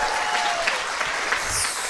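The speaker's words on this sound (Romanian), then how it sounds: "îl mai aplaudăm încă o dată pe Sergiu Mirică" A comedy show audience in Romania claps loudly in dense, continuous applause with a few scattered cheers, steady throughout the short stretch.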